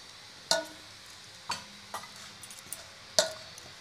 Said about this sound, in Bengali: এবার এটাকে ভালো করে মেখে নিতে হবে।